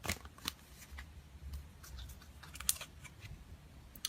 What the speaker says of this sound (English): we'll ask the Priestess Oracle cards.